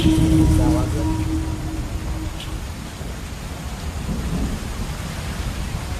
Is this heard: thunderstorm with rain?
yes